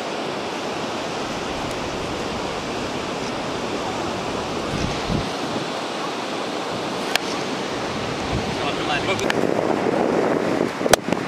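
Sea waves wash steadily onto a beach as a broad, continuous rush of surf close by, with wind noise mixed in and a few faint knocks toward the end.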